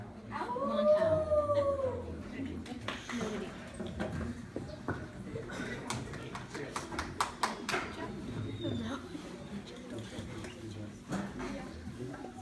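Cub Scouts imitate a long wolf howl as part of a campfire skit. A rising and falling vocal howl sounds early, followed by scattered higher yelps over a busy background of voices and crowd noise.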